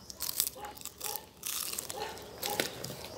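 Crispy fried lumpia bitten and chewed up close, a series of sharp crackly crunches in uneven bursts, fairly faint, with no talking.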